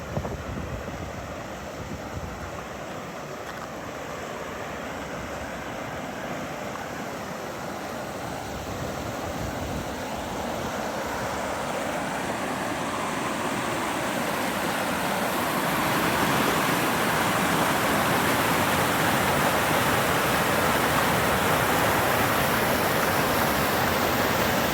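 River water rushing over rocks at a Colorado campsite, a broad steady roar of flowing water that grows louder and fuller partway through, continuous with no talk.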